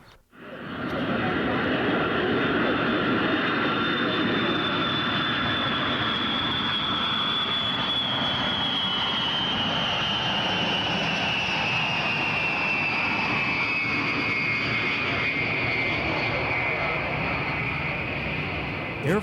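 Air Force One, a Boeing 707 with the designation C-137C, its jet engines producing a loud, sustained roar with a slowly falling whine across about twenty seconds, close by and steady.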